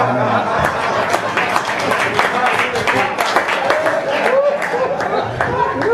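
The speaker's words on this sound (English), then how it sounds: "So they clap there." Audience at a political speech clapping and chattering, a dense patter of hand claps mixed with murmuring crowd voices and occasional laughter, fairly close and loud.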